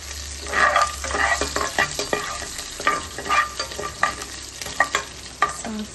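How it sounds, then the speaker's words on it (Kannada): Mustard seeds, cumin and garlic sizzle in hot oil for a tempering, with steady frying hiss, scattered crackles and spoon scrapes against the pan, close and fairly loud with no voices. "ಸಾಸಿವೆ ಜೀರಿಗೆ ಬೆಳ್ಳುಳ್ಳಿ ಚೆನ್ನಾಗಿ ಫ್ರೈ ಆದಮೇಲೆ ಕರಿಬೇವು ಹಾಕಿ."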